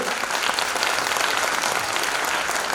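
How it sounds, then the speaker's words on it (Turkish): Audience applause in a hall after a young writer's speech at a formal Turkish event, a steady wash of many hands clapping, fairly distant and even, with no talking over it. "çok teşekkür ediyoruz ve alkışlıyoruz İlay Bey'i."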